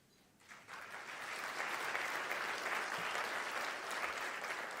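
An audience at the Desert Arc Champions of Change event breaks into applause after a quiet half-second, swelling quickly into steady, dense clapping that holds for the rest of the stretch.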